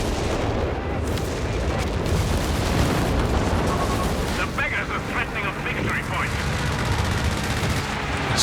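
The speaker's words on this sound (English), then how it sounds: "all this allied artillery" Allied artillery fire during a Company of Heroes 3 3v3 match on a summit map, heard as continuous dense rumbling booms and blasts layered through the whole stretch, with a commentator talking over the battle.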